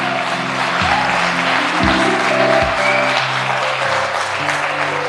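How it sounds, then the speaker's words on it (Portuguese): A church congregation applauding during a family seminar service, dense sustained clapping under low held organ or keyboard chords, loud and close throughout. "Aplauda os irmãos,"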